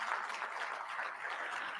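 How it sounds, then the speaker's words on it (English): Applause from an audience at a medical fellowship induction ceremony, honouring a colorectal surgeon; steady, dense clapping throughout, moderately distant and even in level, with no talk over it. "a round of applause for her"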